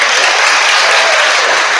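Loud, sustained clapping fills the room at a seventh-grade middle school awards ceremony, a thick, even roar of many hands with no break.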